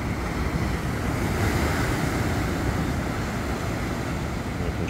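Sea waves wash onto the coast at Nerja on Spain's Costa del Sol, a steady broadband surf roar heard close and continuous, with wind buffeting the microphone throughout and no talk.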